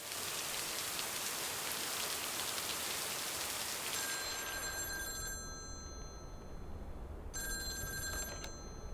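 Steady rain hisses loudly and evenly throughout. Partway through, a telephone's electronic ring cuts in twice over the rain.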